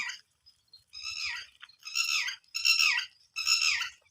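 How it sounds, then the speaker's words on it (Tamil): Red-wattled lapwing alarm calls: about five loud, harsh, repeated squawking cries in quick bursts, close by and clear, with no talk over them. "திட்டித்தா குருவி வேற ஆள் வரக்கூடாதுன்னு கத்தி கிடக்குதுங்க. தித்தித்தான் பறவை. ஆள்காட்டி பறவை."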